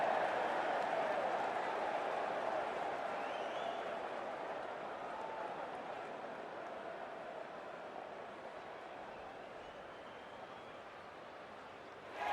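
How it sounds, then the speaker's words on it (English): A loud cricket crowd roars with cheers and noise as players walk out for a Caribbean Premier League 2024 match between Trinbago Knight Riders and Saint Lucia Kings, a dense steady wash that slowly eases over the stretch. "it's a loud crowd as the players make their way out"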